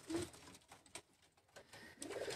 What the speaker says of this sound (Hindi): ये मेरे जहरीले कबूतर हैं